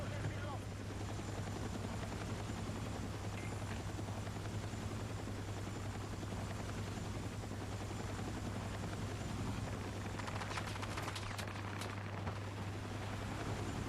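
Military helicopter in Battlefield 6 on the Railway to Golmud map holds a steady, droning rotor thrum throughout, with crackling bursts of gunfire rising near the end of the stretch.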